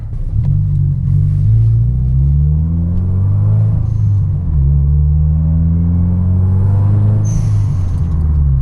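Subaru WRX engine droning steadily in a deep low rumble as the car drives and accelerates, the pitch gliding up and down through gear changes for the whole stretch, loud and close from inside the cabin, with no talk.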